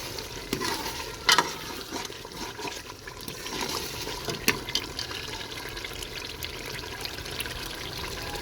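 Mutton paya is stirred with ground coriander in a pan, giving a steady scraping and sizzling texture with wet splashy clicks and a few sharper spoon knocks.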